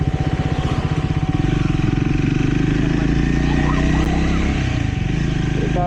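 A motorcycle, the rider's dream bike, runs with a steady, close, throbbing engine pulse that holds evenly throughout, with wind noise over it.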